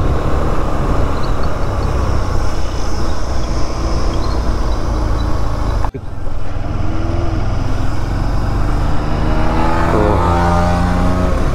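A motorcycle engine revs hard in second gear during a street race between a Yamaha R15 V3 and a Honda Shine. The loud engine drone runs throughout, close and steady, with rising pitch and a brief dip near the middle.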